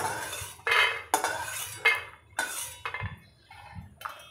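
Roasted peanuts being scraped out of a frying pan (kadhai) onto a plate, a series of close, sharp metallic scrapes and clinks of spoon on pan in uneven bursts with short pauses between.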